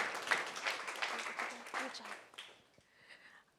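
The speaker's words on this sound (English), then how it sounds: "let's give it up for Prevision." Audience applause after a startup pitch at a prize pitch-off, a short burst of clapping from a crowd under a speaking voice, fading out toward the end.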